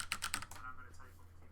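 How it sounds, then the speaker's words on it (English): A loud, clicky mechanical keyboard rattles out a rapid burst of close keystrokes, followed by a short moment of speech as the typing stops, over a steady low electrical hum. "I have a really loud mechanical keyboard."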